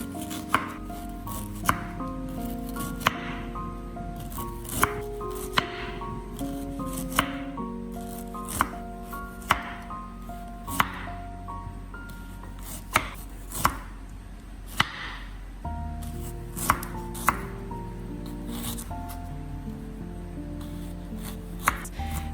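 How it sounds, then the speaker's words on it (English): A knife slices ginger into very thin pieces on a board, making a steady series of crisp close chops under soft background music. "Next, I will slice the ginger into very thin pieces."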